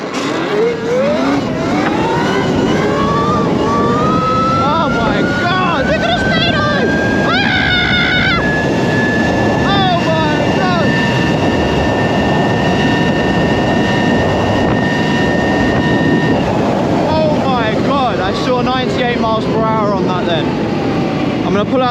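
An 82V Talaria Sting electric dirt bike with a 40 kW Molicel battery pack and 48-tooth sprocket accelerates hard: a loud electric motor whine climbs steadily in pitch and then holds over wind rush, with the rider talking.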